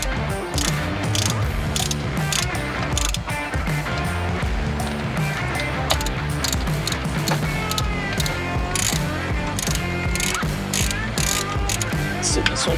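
A ratcheting torque wrench tightens bolts on a 1968 Mustang engine during an overhaul. Rapid clicking ratchet sounds repeat continuously and close up against a busy background.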